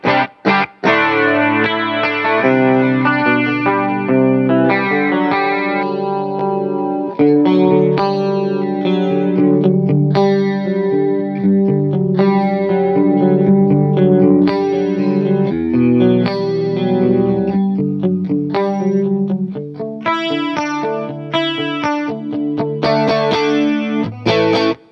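Electric guitar played through an MXR Rockman X100 analog tone processor on its clean 2 chorus setting, sustained shimmering chords and picked notes with lush chorus and echo, loud and continuous with no talking.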